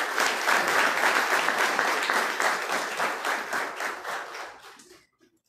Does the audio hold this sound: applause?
yes